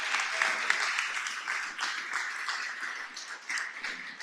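A crowd applauding steadily, dense clapping sustained from start to finish at moderate loudness, with no voices over it.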